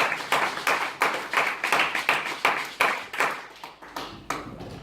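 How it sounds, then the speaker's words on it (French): A congregation claps in unison, roughly a dozen loud, steady, rhythmic claps at an even beat, the claps ringing in a reverberant room with no voices over them. "Clap your hands for the glory of God."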